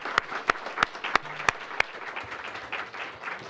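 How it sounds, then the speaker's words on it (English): Audience at an awards ceremony applauding volunteers, a full crowd of clapping with several loud, evenly spaced near claps cutting through, fairly close. "Let's give a big round of applause for these volunteers."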